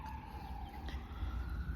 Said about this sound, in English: You can always hear the ambulances and police cars in the background